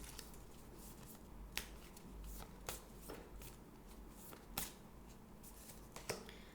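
Moonology Oracle cards being shuffled by hand, faint and close, with soft repeated riffling and a few crisp snapping taps spaced through a quiet room.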